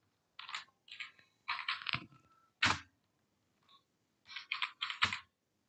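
Quick bursts of keystrokes on a computer keyboard as text is typed into a design app, clicky and fairly close, arriving in short clusters separated by pauses with a few heavier key taps.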